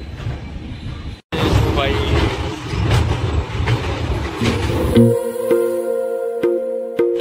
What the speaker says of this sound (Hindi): समस्तीपुर से ट्रेन निकल चुकी है